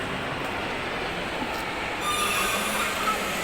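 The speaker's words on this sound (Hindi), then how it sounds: "ये है बच्चों वाली ट्रेन" Children's ride train rolling through a shopping mall, a steady rumbling wash with wheel squeal rising near the end, close and continuous, no talk.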